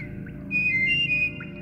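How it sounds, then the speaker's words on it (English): A steady, high-pitched in-game whistle from Oddworld: Abe's Oddysee, sounding clearly for about half a second with a slight pitch step, over a low background game hum. "Oh, there's a different whistle."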